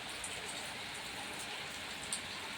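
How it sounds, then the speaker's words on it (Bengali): Steady afternoon rain falls across a rooftop in a broad, even hiss of drops with one or two slightly louder splashes, constant from start to finish with no voices. "দুপুরবেলা আবার বৃষ্টি শুরু হয়েছে।"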